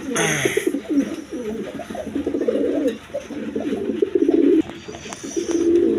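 High-flying Giribaz pigeons coo in low, throaty rolling phrases at close range, repeating almost continuously, with a brief high chirp at the start and faint background noise.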